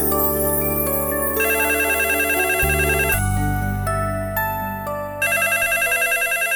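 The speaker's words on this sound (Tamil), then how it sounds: "ஃபோன் கொஞ்சம் அட்டெண்ட் பண்ணு." A telephone ringtone plays loud and alone in a Tamil drama office scene, a repeating electronic melodic ring that shifts pattern midway and continues steadily throughout.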